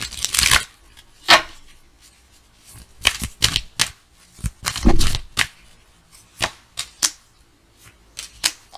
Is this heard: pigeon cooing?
no